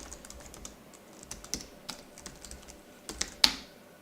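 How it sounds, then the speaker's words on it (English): Someone types on a computer keyboard while coding in Python, a run of close, uneven key clicks ending in one sharper, louder keystroke. "Hey, I'm typing receive for real."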